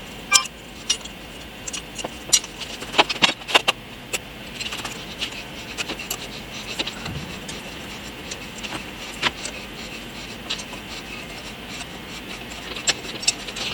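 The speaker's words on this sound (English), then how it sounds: "First thing we got to do is get our brake rotor bolted on." Bolts are threaded in to fasten a brake rotor onto a Honda Shadow 600 motorcycle wheel, with faint scattered metal clinks and taps against a quiet background.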